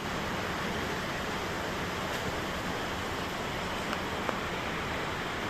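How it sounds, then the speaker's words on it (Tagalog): Heavy rain pours down steadily during a typhoon, a dense, loud, unbroken hiss with no gaps, heard alone with no talking. "Lakas ng ulan po dito, kaya po nasuspenda naman po yung pasok namin."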